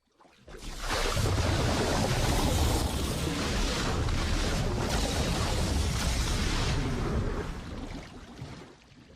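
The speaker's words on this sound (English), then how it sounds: "Bubbles from a jacuzzi are used to create the sound of the sinking ship." A dense, roaring wash of jacuzzi bubbles churning water, used as a sinking ship sound effect, swells in, holds loudly for several seconds, then fades away.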